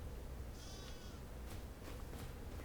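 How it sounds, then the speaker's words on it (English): Sheep bleat in the farming game Farm Sim 25, a short wavering call rising over a steady background bed of farm ambience, with a fainter second bleat following. "Oh, he's got sheep."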